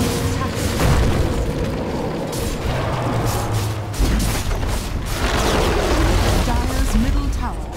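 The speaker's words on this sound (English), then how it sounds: "Dire's middle tower has fallen." Booming crashes and rumbling explosions as a tower is destroyed in Dota 2, dense battle noise throughout with an announcer's voice speaking over it.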